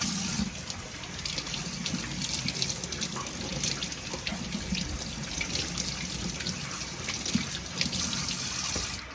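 Tap water runs steadily over a brined wild boar ham, a continuous close splashing gush into a sink, with no voices.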